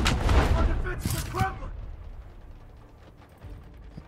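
SMG fire in the shooter game Last Stand, a loud, rapid burst of gunfire at the start that fades into quieter scattered shots and rumble, with voices talking over it.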